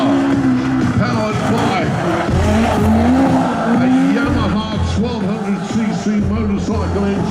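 A legend race car with a mechanical engine spins donuts at a motor festival, its engine revving and wavering while tires squeal and skid continuously; an announcer talks over the loud, close action.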